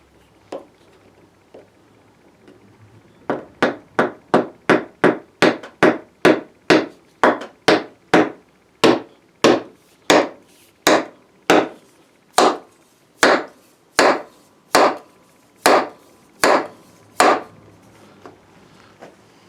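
Two wooden parts are driven together into a press fit with a long series of sharp, evenly spaced hammer blows on wood, about two dozen loud close strikes after a quiet start.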